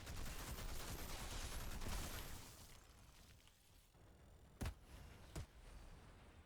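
Assault rifle fire in the sci-fi shooter Outriders: a dense, loud stretch of rapid shots for about two seconds, then quieter ambience punctuated by two sharp, isolated blasts.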